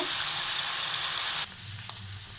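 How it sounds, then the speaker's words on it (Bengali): Onion fries in a pan with a dense, steady hiss that drops to a quieter sizzle partway through, with one small clink near the end. "ডিমটাকে তুলে নিয়ে আমি পেঁয়াজটাকে ভেজে নিচ্ছি।"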